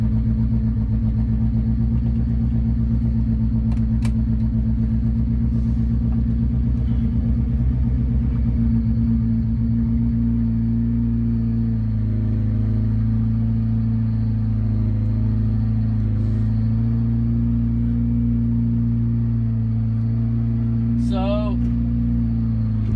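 A worn car on freshly cut springs with new wheels idling and running, a steady low engine rumble throughout, close and loud, with a brief higher whine and a faint click near the end.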